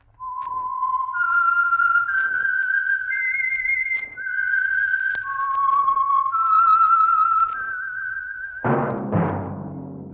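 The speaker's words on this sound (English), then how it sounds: "That whistle is your signal for the Signal Oil Program" A clear, loud whistled tune of sustained stepping notes, the theme of the radio mystery program The Whistler, ending with a sudden sharp hit.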